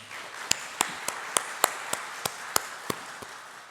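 A church congregation claps in unison during a service, about ten crisp, evenly spaced claps at a steady beat, fairly close and clear over a quiet room.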